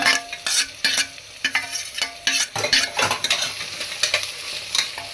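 Frying pan of potato, carrot and peas being stirred, the utensil scraping and clinking in repeated strokes over a steady close sizzle, with no voices.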